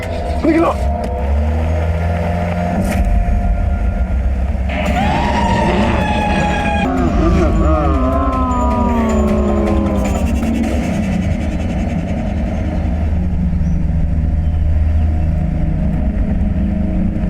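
Car engine revving and pulling away amid a tense scene, a rising whine as it accelerates off, loud and near, mixed with shouting voices and dramatic background sound.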